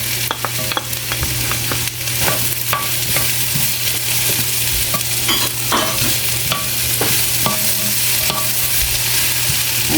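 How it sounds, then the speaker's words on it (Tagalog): Tomatoes sautéing in a hot pan for a home-style green bean and shrimp dish, with a loud steady sizzle and repeated scraping stirs of a utensil against the pan, continuous and close with no talking. "igisa na natin yung kamatis"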